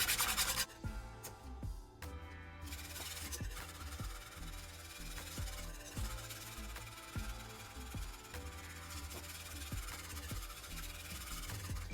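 A whisk scrapes and rubs through cheese in a thick mornay sauce, giving repeated soft scratching strokes in an uneven rhythm, close and quiet with no talking.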